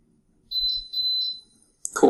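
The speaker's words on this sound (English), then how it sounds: "you're going to hear a couple beeps, and that'll be our very clear indication that this has been modified" Electronic beeps from a modified internet-connected pressure cooker: a short run of clear, high tonal beeps spaced close together, followed by a louder burst of broadband noise at the end, with no talk.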